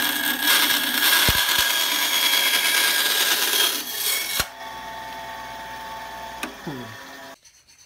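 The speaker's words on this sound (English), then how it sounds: "So now the bandsaw is going to be put into action." A bandsaw cuts material in a robotics workshop, a loud continuous rasping whir for about four seconds, then the blade runs lighter and free with a few clicks before stopping.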